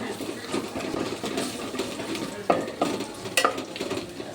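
Garlic frying over low heat in a pan on the stove for gongura pickle, a steady sizzle with a spoon stirring and a few sharp metallic scrapes against the pan.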